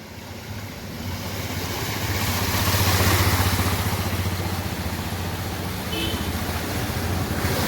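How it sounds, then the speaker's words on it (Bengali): A motorbike rides through a flooded road in Kharagpur town, its engine drone rising and holding steady amid broadband splashing and water noise, building closer toward the middle and staying loud throughout. "দেখুন বাইক কিভাবে আসছে"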